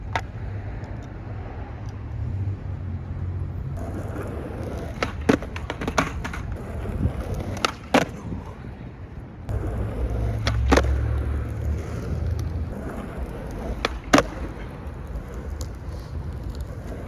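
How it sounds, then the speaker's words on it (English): A skateboard on Independent trucks rolls and pops repeated ollies over a 2x4, each sharp tail snap and landing clack punctuating the rough rumble of wheels on pavement, several attempts spread across the stretch. "So the ollies are actually starting to feel really consistent"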